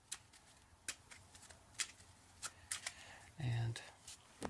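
A deck of cards is shuffled with quick crisp riffling and scattered snaps, fairly quiet and close, and no voices.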